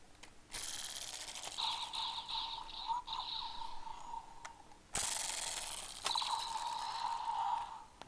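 Toy Ridewatch and dino charger gear clicking and ratcheting into place, with two bursts of bright mechanical whirring and chirping that each run several seconds, close and fairly loud, with no talking.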